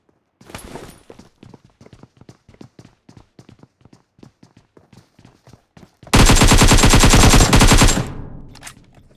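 Gunfire from a PUBG Mobile fight: a string of single shots and short bursts in steady rhythm, then a loud, dense sustained burst of automatic fire that stops abruptly near the end.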